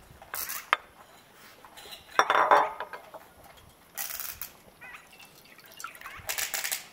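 Shiitake mushrooms and tofu skin dropped into a stewing pot of chicken wing roots at a farmhouse, heard as a few brief clattering bumps and soft splashes with quiet pauses between, no talk.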